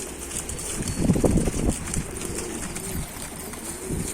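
Soft, low pigeon cooing in a short burst, close by, over a steady breezy background hiss.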